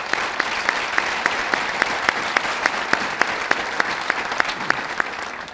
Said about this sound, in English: So please join me in a round of applause for the professor.